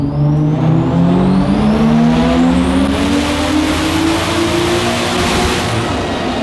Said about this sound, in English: now time to do some dyno pulls